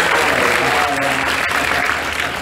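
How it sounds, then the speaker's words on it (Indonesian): A crowd of women at a religious gathering in Indonesia breaks into loud, sustained applause, a dense wash of clapping that holds steady and eases off slightly toward the end. "Tepuk tangan."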